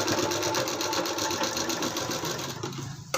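A sewing machine runs steadily, stitching round a blouse sleeve with a fast, even mechanical chatter that holds almost the whole time before slowing and stopping near the end.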